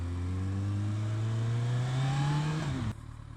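Kawasaki ZZR1400 motorcycle with a 1.4 litre inline four engine riding in traffic, a steady nearby engine drone whose pitch climbs gradually before it cuts to a quieter idle, with no talk.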